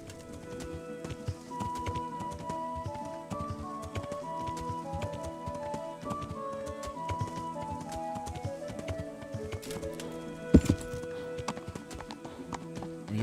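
Horse hooves clip-clopping in Kingdom Come Deliverance, a steady rhythmic trot continuing throughout beneath music-like tonal layers, with one sharp louder knock near the end.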